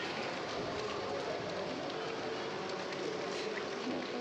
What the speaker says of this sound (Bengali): প্রচণ্ড জোরে বৃষ্টি চলে এসেছে।